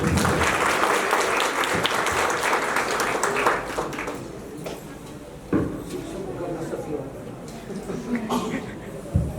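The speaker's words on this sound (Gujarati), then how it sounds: "તો આજના આ પ્રસંગે શિક્ષકો માટે એક જોરદાર તાળીઓ થઈ જાય." A crowd applauds teachers at a school's 10th anniversary celebration, the clapping steady, dense and loud at first and thinning slightly toward the end.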